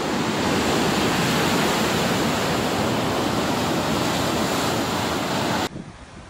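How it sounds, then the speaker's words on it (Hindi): Flood water rushes at high speed after the protective embankment of the Thaddo Dam near Karachi breaks and pours along the Super Highway, giving a loud continuous roar that stops suddenly near the end. "पानी का तेज रफ्तार रेला सुपर हाईवे से होता हुआ कराची की आबादी में दाखिल हो रहा है।"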